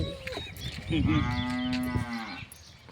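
A cow moos once, close by, in a long, steady, loud call lasting about a second, with farm background noise around it as cattle are given fodder.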